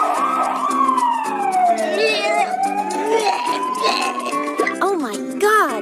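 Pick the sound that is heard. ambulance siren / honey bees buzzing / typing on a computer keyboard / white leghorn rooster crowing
ambulance siren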